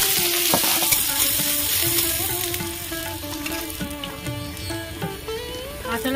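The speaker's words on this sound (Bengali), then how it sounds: "পেঁয়াজ লঙ্কা আমি ভালো করে ভেজে নেব" Onion and chili fry in a pan for potato curry, a continuous close sizzle with spoon scrapes and stirring clinks running through it.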